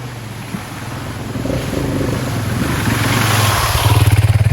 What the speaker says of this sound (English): Just watched a motorcycle go through with no trouble at all.